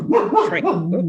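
A dog barks and yips in a quick run of about four close, loud, rising-and-falling calls indoors, heard clearly over a faint room background.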